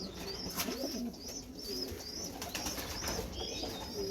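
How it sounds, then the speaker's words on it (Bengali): Big pankhi pigeons, an old-line breeding pair, give repeated throaty coos at close range, overlapping one another over a constant low room hum. "অনেক বড় সাইজের কবুতর এবং খুবই সুন্দর চঞ্চল টাইপের কবুতর"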